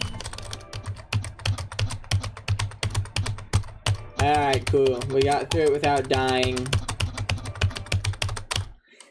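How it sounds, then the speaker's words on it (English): A computer keyboard is hammered rapidly while gaming, dense loud clacking keystrokes rattling on throughout as someone speaks over them in the middle. "I don't know if you guys are hearing me absolutely smash my fucking keyboard"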